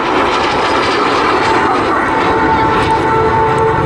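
A MiG-15 jet fighter flies past at the 2022 Southport Airshow, its engine a loud, steady roar that holds throughout while an announcer talks faintly underneath.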